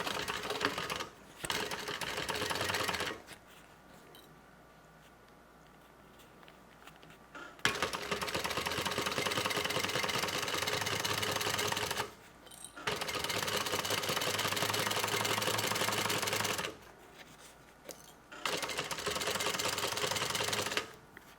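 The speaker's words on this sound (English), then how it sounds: "we're going to stitch using a 1/2 inch seam allowance to get this on" A sewing machine stitches a tote bag seam with a half-inch allowance, running in several loud, even bursts broken by short quiet gaps, with no one talking.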